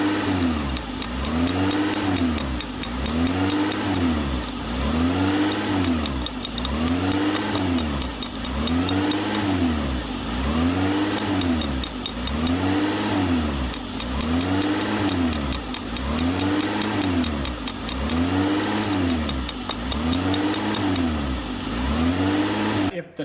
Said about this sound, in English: we'll just kind of tap on it when the car's warmed up and as that idling problem's occurring